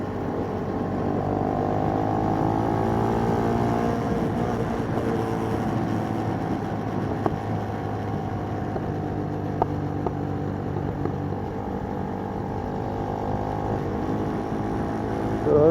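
A Kymco K-Pipe small motorcycle climbing a hill, its engine droning steadily with rising and falling pitch as it accelerates, heard close with wind rush and no talking.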